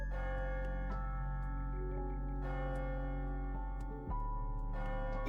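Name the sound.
clock bell striking midnight in video game Ai: The Somnium Files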